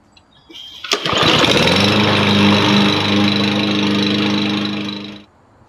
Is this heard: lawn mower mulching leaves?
yes